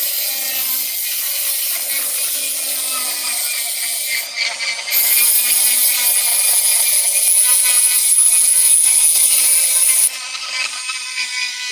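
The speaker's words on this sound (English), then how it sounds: "This little cutoff wheel works really good on the camera." Small cutoff wheel grinding through bone being shaped into guitar picks, a close, harsh, high-pitched abrasive whine that shifts in pitch as pressure changes, with brief dips partway through.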